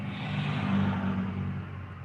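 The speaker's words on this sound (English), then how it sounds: "We got another car coming, guys, so bear with me on the noise." A car rolls past outside a parked van, heard as a low, steady rumble that swells and then eases off within a couple of seconds.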